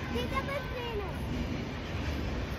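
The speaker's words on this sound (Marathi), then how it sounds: "ही बघा ट्रेन आली बघा" A train rumbles past near a road crossing in a heavy, continuous roar with a low steady drone, while voices talk faintly underneath.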